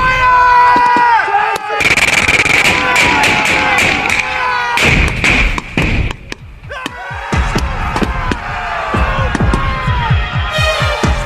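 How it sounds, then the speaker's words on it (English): Gunfire in a battle assault on the rocks of Mount Tumbledown: loud, close bursts of rapid shots and heavy booms in dense clusters with short gaps, voices shouting faintly beneath. "With covering fire coming from Lance Sergeant McGuinness and 13 Platoon"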